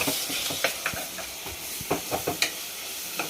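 Ginger and turmeric fry in hot oil for goat head curry, a steady sizzle broken by short stirring scrapes and spatters of the spoon against the pan, close and fairly loud, with no voices.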